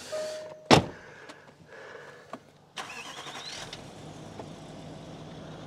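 A car door thuds shut, followed by an engine cranking and catching, then settling into a steady idle with a faint rising whine.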